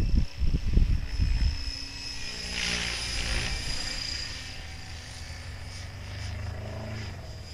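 A radio-controlled model helicopter flies nearby with a steady whining rotor and motor hum, preceded by a few brief thumps at the start, the tone holding level as it hovers down toward landing.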